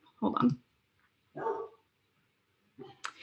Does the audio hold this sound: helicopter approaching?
no